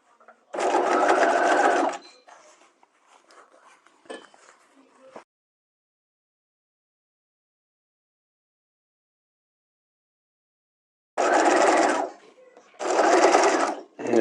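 A sewing machine stitches a neckline facing in three runs, one long burst at the start and two shorter ones near the end, with light handling clicks between and long quiet gaps.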